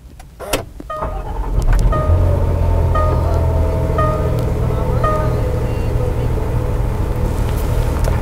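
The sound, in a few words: 2016 Land Rover LR4 HSE engine starting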